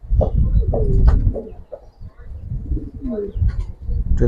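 Close, loud throaty cooing from homer pigeons at a farm, rolling in low repeated phrases that nearly fill the moment, with faint chirps mixed in.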